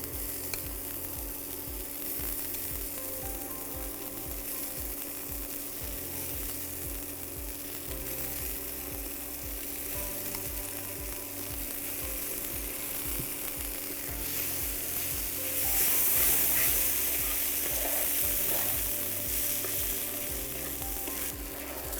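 Corn kernels sizzle and fry steadily in a hot pan with onions and turmeric, a continuous crackling hiss broken by periodic scraping as the mixture is stirred, growing briefly louder partway through.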